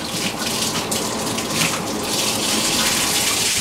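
Water runs steadily from a tap as parts of an M40 or M42 series gas mask are rinsed, a loud continuous splashing gush with no talk.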